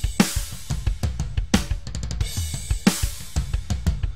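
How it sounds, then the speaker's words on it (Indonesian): Dry drum kit recorded with no added effects: close kick, snare and cymbal hits in a busy groove with fills and crashes, loud and unprocessed. "Jadi ini real suara drum"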